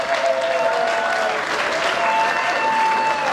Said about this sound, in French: Voilà, applaudissez très fort.